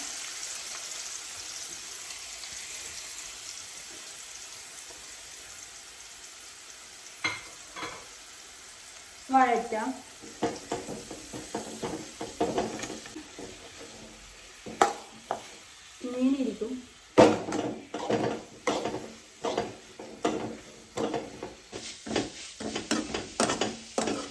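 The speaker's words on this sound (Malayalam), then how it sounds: "നമുക്ക് ബിരിയാണിന്റെ മസാല തയ്യാറാക്കാം ഉള്ളിയിടാം" Onions frying in a pan for biryani masala, a steady sizzle building as the onions go in, with stirring scrapes and clinks repeating in a loose rhythm, close and fairly loud.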